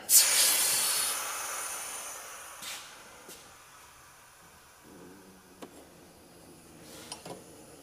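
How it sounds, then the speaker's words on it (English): Air hisses from a loose, leaking hose fitting on an air jack, a loud burst at first that fades into a steady faint hiss, with a few small clicks after it. "I've got a bad hose end here, so it's not the jack leaking, it's my hose."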